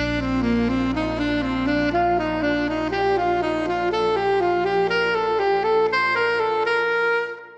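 An alto saxophone plays a steady stepwise scale pattern of short, evenly spaced notes climbing gradually upward, sustained and clear with no talking.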